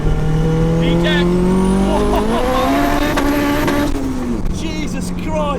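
A turbocharged B16 Honda Civic EF hatchback accelerating hard, heard from inside. The engine note climbs steeply, jumps as VTEC engages, and stays loud throughout, with people talking over the roar.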